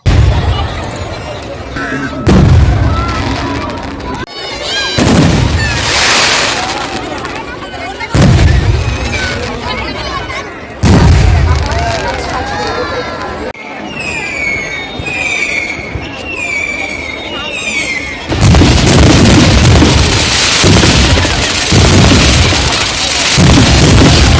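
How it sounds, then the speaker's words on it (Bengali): Loud booms and crackling bursts of fireworks go off in repeated waves at a festival, with whistling rising streaks and a crowd's voices between the blasts. "আতসবাজি প্রদর্শনীর ভিডিও শেয়ার করলাম"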